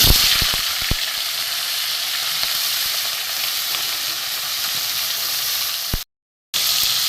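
Prawns dropped into hot oil over a tempering of spices in a pan, giving off a loud, continuous bright sizzle with a few sharp crackles and spatters at the start, then a brief dropout near the end.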